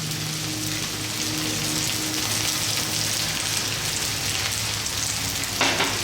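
Onions with pandan (rampa) and curry leaves sauté in a pan for a Sri Lankan fish curry, giving a steady, close, continuous sizzle and crackle with no talking.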